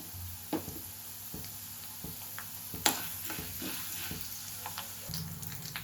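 Coriander seeds and cumin fry in oil with urad dal, a faint sizzle under soft scattered taps and scrapes of stirring, with one sharper clink, no voices.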